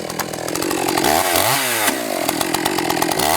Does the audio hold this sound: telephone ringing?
no